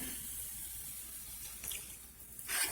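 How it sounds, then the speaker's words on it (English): Water poured from a measuring cup into a pan of taco seasoning mix for vegan tacos, a soft steady wash of liquid that rises into a louder splash at the end. "Then, add half a cup of water."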